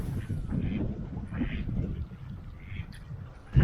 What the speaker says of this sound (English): There are many birds here